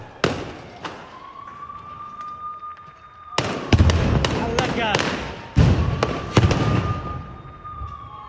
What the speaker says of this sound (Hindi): देसी बमों से इजरायली जवानों पर हमला किया गया है।